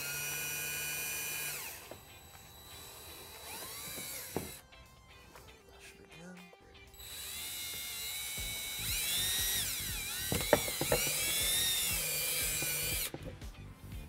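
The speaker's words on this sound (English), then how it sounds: "we're gonna drill a couple holes, one right here, so our wire stays into place through it." Power drill boring holes through a panel of a 2021 Tesla Model S during trailer wiring installation, with bursts of high whining drilling between quieter handling noises, close and without talk.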